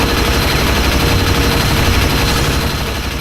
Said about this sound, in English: the combat assault rifle is fantastic against this Scarge Warlord here